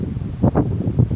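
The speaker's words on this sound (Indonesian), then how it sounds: "Angin kencang banget." Strong wind blows across the microphone in a low, rumbling roar, with a few louder gusts swelling and fading in quick succession.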